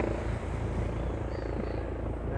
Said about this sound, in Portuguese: lá vem o outro helicóptero passando aqui